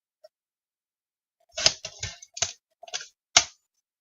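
Paper cut down for a handmade card, a short run of sharp, close snips and clicks in quick uneven succession against otherwise silent surroundings.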